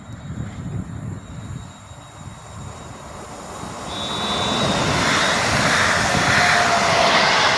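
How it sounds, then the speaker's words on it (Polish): Flirt electric multiple units of the Łódź regional railway pass through Warszawa Włochy station, a rising rumble and whoosh that swells into a sustained roar, with a faint high tone partway through. "No i mamy przelot flirtów łódzkich kolei."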